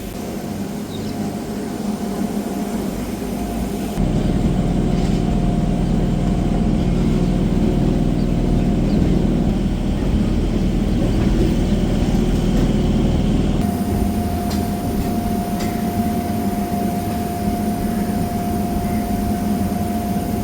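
A Krishnanagar local train pulls out of platform three at Sealdah station, a loud continuous low rumble and roar of the moving train that swells after a few seconds and stays steady, close by, with no talk.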